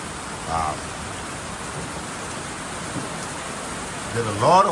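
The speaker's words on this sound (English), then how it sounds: "You get heavy rain with the pour right now." Heavy rain pours onto a roof as a dense, even hiss filling the whole stretch, with brief voices rising over it near the start and again at the end.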